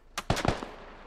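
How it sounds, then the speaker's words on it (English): A quick cluster of about three or four sharp shots rings out near a window in the game SquadOps, close and punchy, then fades into a short echoing tail. "Shots close to this window right here."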